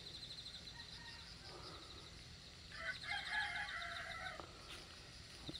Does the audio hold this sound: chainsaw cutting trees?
no